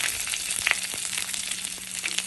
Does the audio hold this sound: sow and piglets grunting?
no